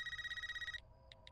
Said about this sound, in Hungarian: Honnan tudod, hogy csörög a vonalas?